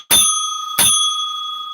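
Two bright rings of a bicycle-style bell, close and loud, each strike ringing out with a long sustained shimmer before the next.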